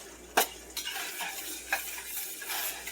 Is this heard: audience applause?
no